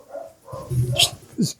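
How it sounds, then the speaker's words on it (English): A pet dog barks indoors, with a few sharp yelps in quick succession, close and moderately loud, the last bark rising in pitch. "So that's my dog is barking."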